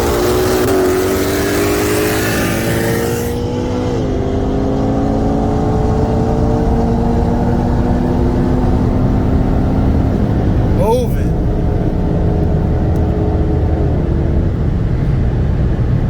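A 2021 Shelby GT500 Carbon Fiber Track Package and a 2018 Audi RS3 with bolt-ons on E85 accelerate hard in a race, engines climbing in pitch with distinct gear-shift drops, loud and near, with voices in the background.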